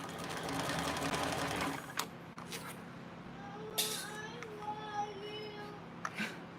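A sewing machine runs basting stitches in a steady fast rattle for a couple of seconds, then stops, followed by a few light clicks and faint talk in a quiet room.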